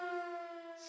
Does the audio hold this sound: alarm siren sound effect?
yes